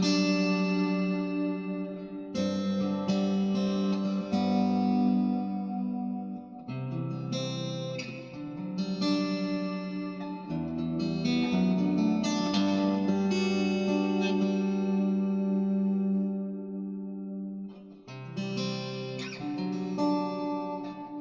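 An Xvive Maxverb reverb pedal on an electric guitar with a piezo pickup emulating an acoustic: sustained chords and picked notes ring out with long, washy reverb tails, steady and moderately loud, with no talking.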